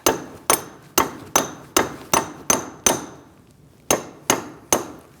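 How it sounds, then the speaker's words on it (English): A hammer strikes a punch to drive a rusted front axle out of a 2002-2006 Toyota Camry steering knuckle: close, sharp metallic blows at a steady beat, about eleven in all, with one short pause midway. "we're going to use a punch to get it past that rust"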